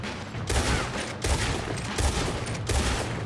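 Video game gunfire crackles in dense repeated volleys, loud and continuous bursts with short gaps between them, with no voices heard.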